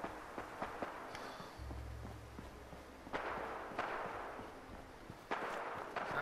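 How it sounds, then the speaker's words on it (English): Scattered faint cracks of gunfire in the distance in Fallout 4, irregular single shots over a low ambient hum, with a brief low drone partway through. "I hear the gunfire off in the distance."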